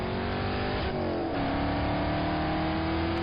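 A 1960s muscle car's exhaust roars loud and close in a sustained rev, the pitch dipping and then climbing again as the throttle changes, with a dense, rumbling note throughout.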